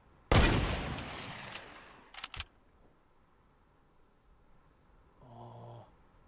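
Gunfire in the video game Fortnite: a loud, close shot with a long decaying tail, then a quick burst of a few sharper cracks, followed by quieter in-game sounds.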